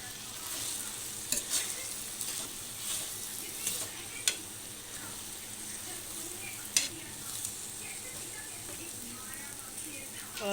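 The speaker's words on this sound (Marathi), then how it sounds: "आता आपण यामध्ये सुकट टाकून व्यवस्थित परतवून घेऊया" Steamed thorny brinjal stir-fried with dried shrimp (sukat) in a pan, a continuous soft sizzle broken by a few sharp clicks of the spatula against the pan, with faint talk in the background.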